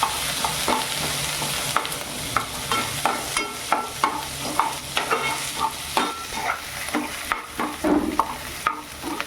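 Ginger-garlic paste frying in hot oil for masala bhindi, a continuous sizzle under rhythmic scraping strokes of a spoon stirring in the pan, close and fairly loud with no talking.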